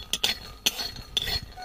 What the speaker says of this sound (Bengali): এর জন্য আমি শুকনো খোলায় কয়েকটা জিরে নিয়েছি, জিরেগুলো প্রথমে ভেজে নেব